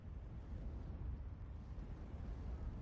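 Artillery shells in the Steel Division 2 wartime strategy game land as a low, continuous rumble of distant explosions, muffled and fairly faint, rolling on steadily with no clear separate blasts.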